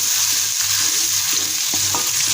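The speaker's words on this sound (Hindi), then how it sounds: "हाई फ्लेम पे आपने इस तरह इनकी बुनाई करनी है अच्छी तरह से" Ground masala stir-fried in a pan over a high flame makes a loud, continuous sizzle, with soft rhythmic scraping of a spoon moving through the mixture throughout.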